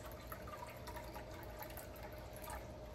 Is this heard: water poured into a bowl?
yes